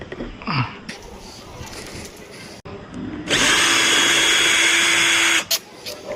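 A power tool whirs for about two seconds while removing a mirror bolt on a Yamaha R15 V3 motorcycle, loud and close after quieter handling noises and brief talk.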